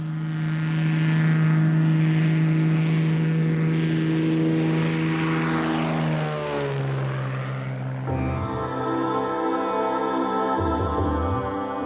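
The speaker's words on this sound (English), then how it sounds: "Lotus Airways' fleet of 2 Cessna light aircraft provides short hops to the nearest airport and beyond." Cessna light aircraft with a propeller engine, a steady loud droning hum that shifts pitch as the plane passes, heard alone without voices.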